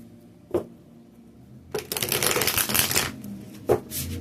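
Tarot cards shuffled in short riffling bursts: a brief flutter, then a longer dense riffle of about a second, and another quick flutter near the end, fairly close and clear with no talking.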